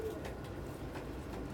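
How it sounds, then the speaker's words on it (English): Pigeons feeding together at a food dish, soft low cooing murmurs layered over one another, close and quiet with a faint background hum. "Pigeons are communal feeders, and if they can't feed communally,"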